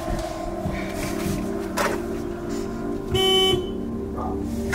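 A car horn in a video game honks once in a short steady blast over a constant background hum, with a brief spoken line just before.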